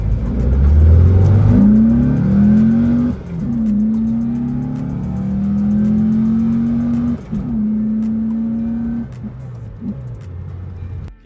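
A loud air-cooled Volkswagen Beetle engine, a 2.2-litre unit, revs repeatedly, rising and falling in pitch through several gear-like climbs, close and alone.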